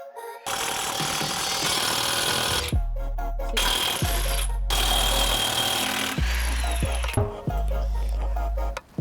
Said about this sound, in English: Take off these bolts right here.